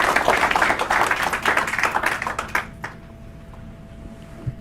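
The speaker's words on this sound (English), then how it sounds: "Give it an applause," An audience claps in a loud burst of applause lasting a couple of seconds before cutting off abruptly into near quiet.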